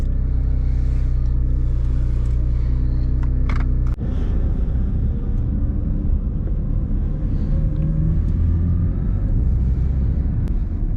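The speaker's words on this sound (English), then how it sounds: "we're gonna start the engine like this" A Porsche 911 GT3 (992) engine idles with a deep, steady rumble, then a sharp catch and the revs settle into a rougher, throbbing idle.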